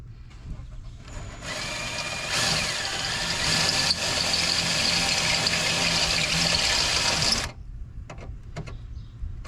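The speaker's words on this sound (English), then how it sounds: "have to ensure that you're very careful with drilling" A power drill bores a half-inch hole for a rear bumper on a 2002 Jeep Wrangler, a loud steady whine ramping up and holding for about five seconds before cutting off abruptly.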